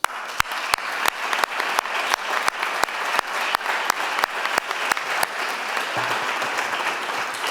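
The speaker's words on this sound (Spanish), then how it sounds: "por eso le voy a pedir un aplauso" An audience applauds at a book presentation on the history of a Spanish municipality, with sustained, fairly close clapping and a few sharper claps standing out from the steady patter.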